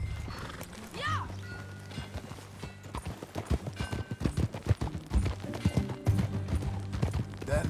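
In Red Dead Redemption 2, a horse gives a sharp whinny near the start, then rapid galloping hoofbeats pound steadily and close, with characters talking over the ride.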